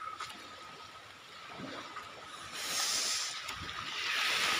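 Sea at Turtle Island in Zamboanga del Sur, a broad steady hiss of surf and wind that swells louder partway through, with no voices over it.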